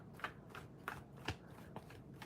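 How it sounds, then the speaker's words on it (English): Tarot cards are shuffled in soft, rhythmic riffles, several quick papery flutters in a row, quiet and close with no talking. "Give me one moment to shuffle."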